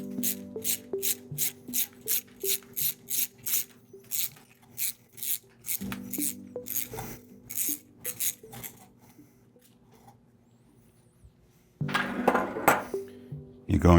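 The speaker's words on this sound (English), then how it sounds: "You'll remove your two 10-32-inch screws." Two 10-32 screws being backed out of the oil filter housing on top of an aircraft gearbox: a quick series of sharp metallic clicks and taps from the driver, close by, pausing midway, with a louder burst of rattling near the end.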